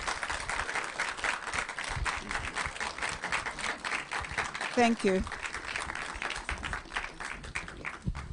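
Audience applause greets a speaker as she is invited to the podium, a steady dense wash of clapping lasting throughout, with a brief spoken thanks rising over it near the middle.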